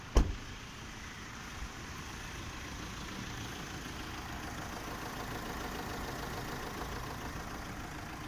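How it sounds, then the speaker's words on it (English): A Tata Harrier's Fiat-sourced diesel engine idles, heard from outside the SUV as a steady, quiet, even hum with no talk over it. "the engine sounds really smooth and noiseless outside"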